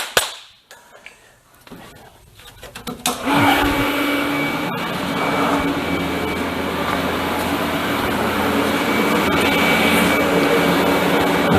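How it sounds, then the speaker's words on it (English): A welder works on an exhaust pipe for a Yamaha RD400 motorcycle. After a few quiet seconds, a loud, steady, rough hiss and buzz starts and continues unbroken to the end. "Welder on."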